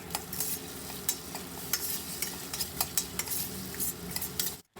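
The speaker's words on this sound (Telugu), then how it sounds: "ఒక్క స్పూను అల్లం వెల్లుల్లిపాయ పేస్ట్ కూడా వేసి బాగా కలిపి" Ginger garlic paste being stirred in a pan, sizzling steadily with repeated sharp clinks and scrapes of a spoon against the metal, close and fairly loud, with no speech.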